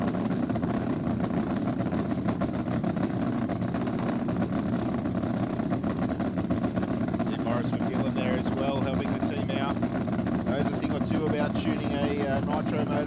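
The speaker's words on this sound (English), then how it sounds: "Tuning a nitro motor." A nitro drag racing engine being tuned at Sydney Dragway, a loud continuous rough roar with rapid crackling pulses, steady throughout with people talking over it.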